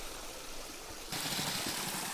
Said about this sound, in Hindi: काफ़ी रुका हुआ पानी है और निरंतर बह रहा है।